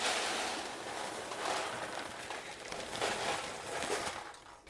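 Ceramic pie weights poured into a foil-lined pie crust give a steady, dense rattling rush of many small pieces, continuous and fairly loud throughout, heard alone without talk.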